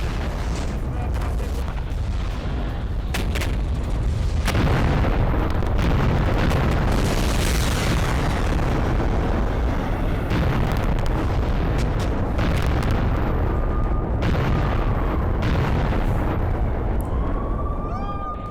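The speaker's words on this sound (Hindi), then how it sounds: "BMP-3 इन्फेंट्री व्हीकल और T-72 टैंक से जबरदस्त हमला किया गया है।" Heavy explosions and booms from an attack by a Russian BMP-3 infantry vehicle and T-72 tank on a Ukrainian post, a continuous loud roar of blasts and rumble with faint voices underneath.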